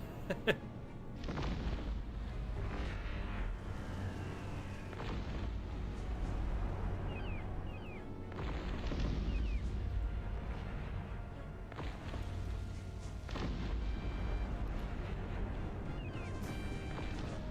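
Cannon artillery fire in the strategy game Cossacks Back To War, a run of heavy booms and crashes repeating every couple of seconds over a dense, continuous battle din, loud and close throughout.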